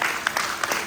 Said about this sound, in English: can we get a round of applause for Robert for doing that?